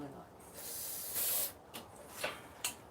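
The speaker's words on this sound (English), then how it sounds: "all I'm going to do is spray some carb cleaner through into the intake here" Carb cleaner sprayed into the intake of a snowblower carburetor: a sustained aerosol hiss, then several short sharp spray bursts, close up, with a voice faintly present.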